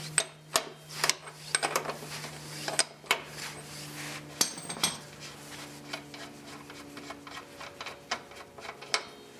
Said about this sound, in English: And then I'm going to take a socket and remove the rear axle nut.